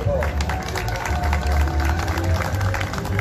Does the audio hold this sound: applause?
yes